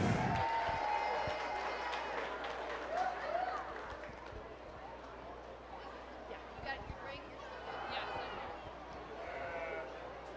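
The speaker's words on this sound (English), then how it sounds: "give the rest of these kids a round of applause" Applause from a crowd for children at a junior goat showmanship class at a county fair, scattered clapping under an announcer's voice amid arena noise with occasional goat bleats.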